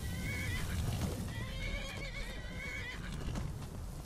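Horses in the Skyrim video game whinny and neigh in overlapping, wavering cries with hoof clatter and a busy, dense game soundscape underneath, loud and continuous through the moment.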